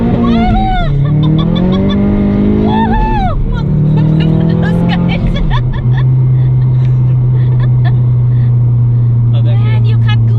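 A 420whp Ecoboost Mustang driving with the windows up, its loud engine note rising through the gears in cabin-heard pulls, then settling to a steady drone, with people talking over it.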